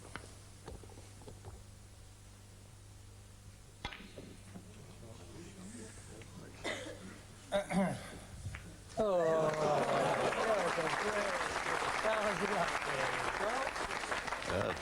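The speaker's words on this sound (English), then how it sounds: "generous round of applause for that one" Applause breaks out from the audience at a 1990 snooker tournament after a shot, a sudden swell of clapping that follows quieter moments and continues under commentary.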